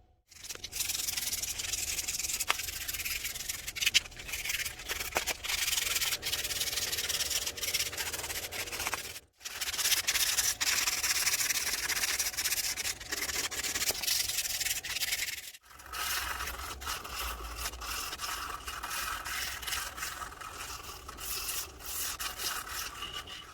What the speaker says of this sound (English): Lots of sanding. Here we go.